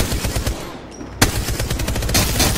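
Rapid bursts of Apex Legends ranked-match gunfire, automatic weapons rattling in quick volleys with a sharp louder shot midway, fairly distant and continuous.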